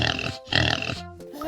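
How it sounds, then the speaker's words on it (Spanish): A pig grunts in a few short, rough bursts at close range, with a brief tonal squeal-like note near the end. "¡Cerdo!"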